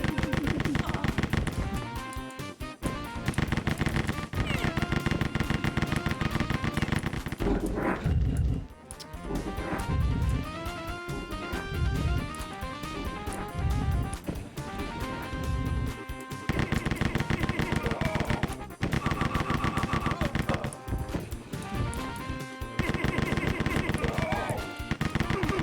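Rapid gunfire from the first-person shooter Rise of the Triad: Ludicrous Edition, with bursts of automatic weapons and blasts ringing out loudly and almost nonstop among game effects and music, with short gaps between volleys.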